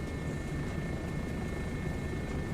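Helicopter engine sound in a flight video game, recorded from a real private helicopter: a steady, loud, droning rotor and turbine roar with a constant high whine, unbroken throughout.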